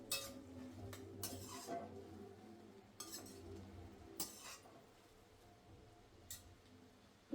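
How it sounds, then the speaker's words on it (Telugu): A spoon stirs garlic macaroni pasta in a pan, giving soft scraping swirls with a few sharp metallic clinks against the pan, close and fairly quiet. "ఇంకా కలుపుతున్నాను ఒకసారి"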